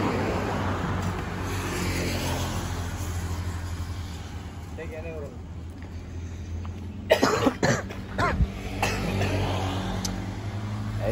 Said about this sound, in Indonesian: Jadi di sini musim batuk.